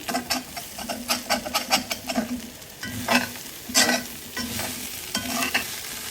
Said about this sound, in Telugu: ఈ కొబ్బరి, ఈ చికెన్ అనేది మొత్తం ఇంకా ఫ్రై అవ్వాలన్నమాట.